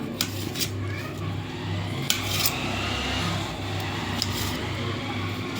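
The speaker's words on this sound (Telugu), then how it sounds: "ఇప్పుడు అయితే టమాటా కట్ చేస్తుంది" A knife cutting tomatoes on a board for upma, several sharp clicks and taps scattered through the passage over a steady low hum and soft kitchen clatter.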